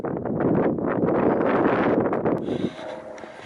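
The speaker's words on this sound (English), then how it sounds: "A little windy here." Loud, steady wind buffeting a microphone, a broad rushing roar that drops abruptly near the end to a quieter background hum.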